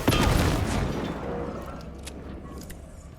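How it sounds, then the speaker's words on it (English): Gunfire in Alan Wake 2 opens with a loud burst of shots, followed by a rumbling echo and a few scattered sharp cracks that trail away; no talk. "we'll shoot him anyway"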